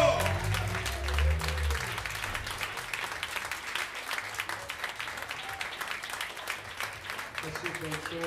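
Audience applause at a concert as a jazz musician is welcomed onto the stage, steady, moderately loud clapping running throughout, with a voice and some music at the start.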